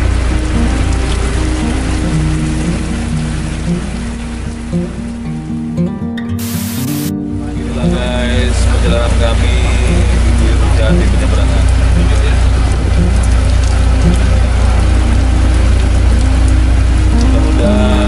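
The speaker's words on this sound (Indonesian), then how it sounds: "Hujan guys." Heavy rain falls steadily on a badly damaged road near Air Upas, Ketapang, on Kalimantan, a dense loud hiss that swells partway through, with faint vehicle noise mixed in.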